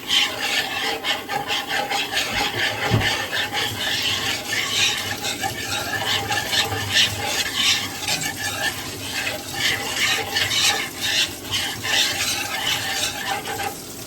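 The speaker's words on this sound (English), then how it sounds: "I shouldn't be using this whisk in my non-stick pan." A whisk scrapes and stirs a thickening flour sauce in a non-stick pan for a cheesy chicken cauliflower bake, with rapid, rhythmic rasping strokes close up and continuous, with no talk over it.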